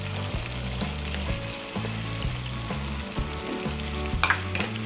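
Chicken steak with oyster sauce, sweet soy sauce and tomato sauce sizzles in a frying pan as it is stirred, steady frying hiss with repeated scraping strokes of the utensil, no talking.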